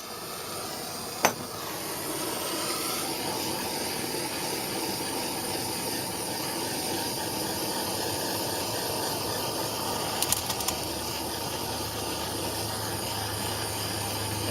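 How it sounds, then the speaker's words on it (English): A torch flame burns steadily on sterling silver, a loud continuous roaring hiss close by with a couple of faint clicks and no talk. "we are going to light our torch up and we are going to burn this stuff off"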